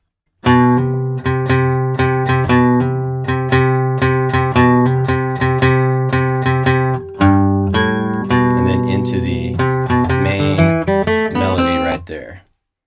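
Flatpicked acoustic guitar plays a bluegrass 'potatoes' kick-off intro in C for Billy in the Lowground, bright steady strummed and picked notes, loud and close, ending in a quick run of single notes.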